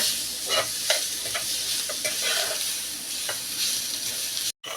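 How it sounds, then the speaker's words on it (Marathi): Onion-tomato masala sautés in a pan until brown, a continuous sizzle with repeated scraping stirs of a spatula, close and steady, with no voices. "सगळं ब्राऊन होईपर्यंत आपण आता हेही आपण परतून घेणार आहोत"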